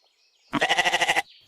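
A goat gives one close, loud, pulsing bleat of under a second in an animated Hindi story, standing alone against a quiet background.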